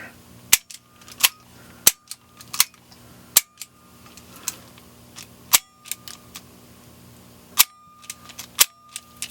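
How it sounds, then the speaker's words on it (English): An Umarex CO2 Smith & Wesson 327 TRR8 air revolver fires a series of sharp, snappy pops at uneven intervals, each followed by a short metallic clack of the action, close and crisp with no speech. "Probably shoot it single action for now."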